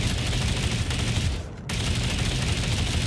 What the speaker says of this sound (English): oh, he's in the sky shooting at us